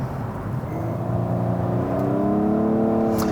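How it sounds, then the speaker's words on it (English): A Nissan Maxima's 2019 VQ V6 engine revs steadily upward with a raspy, rising drone, loud and close, no voices. "it has that typical raspiness that you associate with Nissan's VQ V6 engine"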